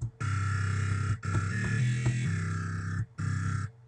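A sustained buzzy synth tone from FL Studio with LFO pan automation, harmonically rich and steady, shifting pitch slightly midway, cutting off briefly near the end before a short final burst, with no talk over it.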